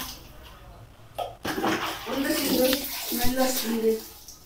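Water splashes and pours close by during washing, with running, sloshing bursts that grow busier partway through as people talk over it.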